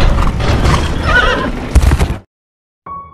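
A horse on a hillside farm in rural England gives a loud, close, drawn-out neigh mixed with clip-clop and rustling, then cuts to silence before a short faint tone.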